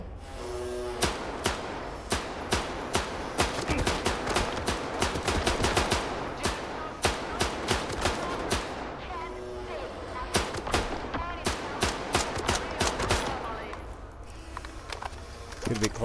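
Rapid gunfire bursts and single shots crack repeatedly in the video game STALKER 2, loud and sustained over about sixteen seconds.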